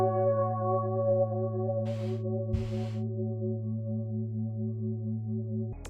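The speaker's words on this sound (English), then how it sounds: "found this Silk Split Keys preset" A sustained chord plays on the Silk Split Keys preset in Analog Lab, shaped by chorus and filter. The tone is smooth, steady and moderately loud, with two brief breathy bursts layered in the middle and a soft attack at the end.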